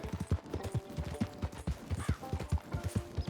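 Horse hooves gallop in rhythmic clip-clop beats in Red Dead Online, steady and near, with faint game ambience and an occasional creak of tack behind them.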